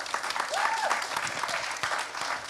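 An audience claps at a talk on climate justice and human rights, a steady close wash of applause lasting a couple of seconds, with a voice faintly audible over it.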